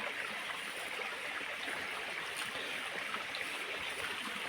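Flowing river water rushes steadily, a constant broad hiss and burble with no pauses or other sounds.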